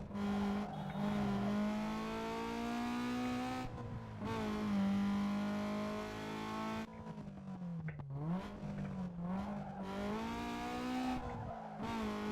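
Honda Civic engine in the racing video game Need for Speed Underground 2, a loud, buzzy engine drone rising through gears with repeated rev climbs and drops, brief shift gaps and tire squeal, steady and close throughout.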